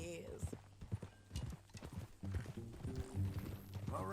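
Horse hooves clip-clop steadily in Red Dead Redemption 2 at a walking pace on a ranch, close and rhythmic, while people talk over them.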